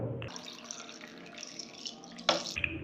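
Water pours into a bottle in a small tabletop experiment on water finding its own level, a brief steady trickling stream with a splashy burst near the end, close and fairly quiet.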